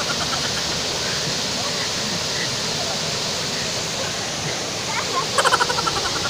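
Rushing water of an overflowing river, a dense steady roar close by that fills the whole clip, with a brief burst of faint voices near the end.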